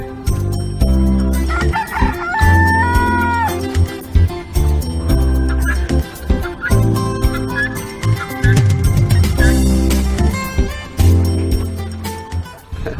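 A rooster crows repeatedly on a farm where rare breeds of chickens and ducks are raised, loud and close, mixed with clucking and other fowl sounds in busy, irregular bursts.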